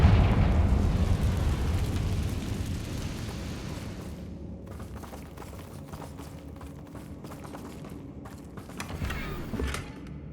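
Bombarda and Confringo spells explode in Hogwarts Legacy, a loud rumbling blast fading over several seconds into creaks and debris crackles, with a smaller burst near the end.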